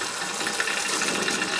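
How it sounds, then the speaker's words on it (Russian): Water gushes and sputters from the tap of a Geyser Typhoon mains water filter as air is purged from the system, a steady hissing splash throughout. "Тут немножко так прольет."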